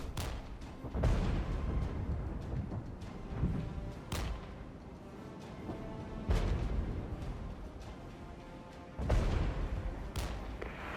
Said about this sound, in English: that's some serious artillery coming in